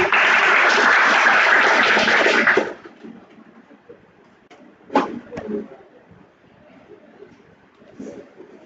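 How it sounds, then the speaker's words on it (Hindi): A class audience claps for a student in a beginner-to-advanced Redux Toolkit programming lesson: a dense burst of applause for about three seconds, then quieter room sounds, a few knocks and faint talk. "तालियां बजा लो इसके लिए यार"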